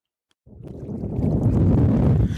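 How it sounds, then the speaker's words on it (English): A boat engine starts up and settles into a steady, loud rumbling drone, close by, with wind buffeting the microphone. "I reckon the boat's on and running now."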